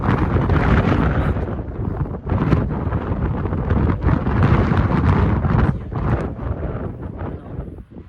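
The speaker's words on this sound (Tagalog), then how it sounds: "Mas po yung hangin kaya medyo hindi nyo marinig." Strong wind buffets the microphone continuously, producing loud, gusting rumbles and crackling bursts that swell and dip throughout.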